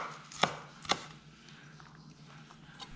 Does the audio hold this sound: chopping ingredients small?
yes